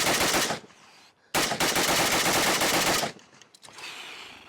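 A Bulgarian RPK light machine gun fires two loud, close bursts of rapid automatic fire: a short burst, a brief gap, then a longer sustained burst. Ringing echoes trail off after the shooting stops.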